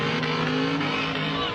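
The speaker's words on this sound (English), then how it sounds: "These hoons burn rubber in plain view of police." A car does a burnout on a public road while police look on: a loud, continuous engine roar mixed with hissing tire squeal, sustained and close throughout.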